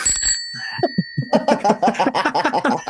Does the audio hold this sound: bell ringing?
yes